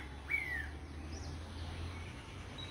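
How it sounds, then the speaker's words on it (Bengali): A single bird chirp rings out early, followed by a few faint distant calls, in trees near the Gomti river, set against a quiet steady background hum. "গাছের মাঝে পাখি কিভাবে কিচিমিচি শব্দ,"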